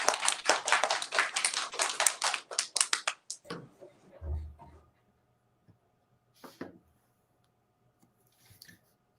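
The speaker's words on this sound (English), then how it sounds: "we can give a round of applause to Jasper" A school assembly crowd claps briefly for a few seconds, then the clapping trails off into near silence broken by a few faint knocks and rustles.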